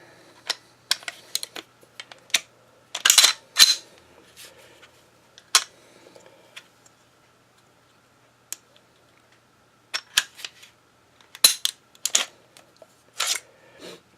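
Close, sharp metallic clicks, snaps and scrapes come in irregular bursts with quiet gaps as a Glock 17 pistol is taken apart by hand. No one speaks.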